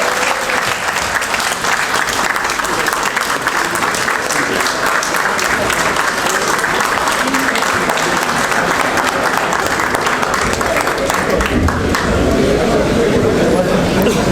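An audience at an annual general meeting bursts into sustained, dense applause, a loud continuous patter of many hands filling the room with faint crowd murmur beneath.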